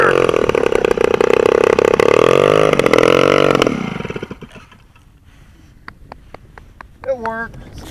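A Quadra 75 engine powering a big model plane runs loud and steady for a few seconds, then cuts out abruptly, leaving quiet background with scattered clicks and a brief voice near the end.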